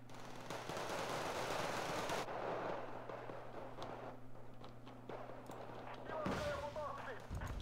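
Faint, far-off gunfire in a Battlefield-style game, sustained bursts of automatic fire and shots rumbling under game noise, with a sharper burst near the end.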